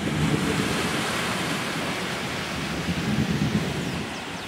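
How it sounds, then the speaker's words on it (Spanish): A thunderstorm over the sea near Punta Colorada: a loud rumbling roar of thunder blends with rain and surf, swelling and easing across the stretch with no talking. "Se puede creer la belleza que representa esta tormenta acá en el mar."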